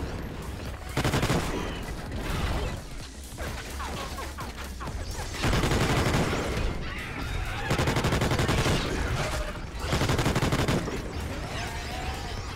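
Rapid automatic gunfire bursts in Call of Duty: Ghosts Extinction, loud and dense, pulsing in repeated sustained volleys with brief lulls between them and mechanical clatter mixed in.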